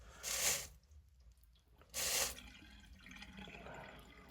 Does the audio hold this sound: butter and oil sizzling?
no